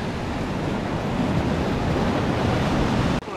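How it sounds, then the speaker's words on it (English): Sea water surges and laps around a small rocky outcrop used for fishing, a loud steady wash of surf and spray mixed with wind buffeting the microphone, with no talking. "The water's actually lapping up behind us now, and then on this side as well."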